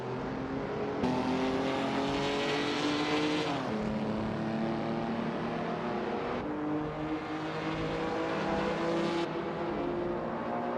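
A 1969 Pontiac GTO with a V8 engine in an auto race, its engine droning steadily with shifting pitch as it climbs through gears, heard continuously and fairly close without a break.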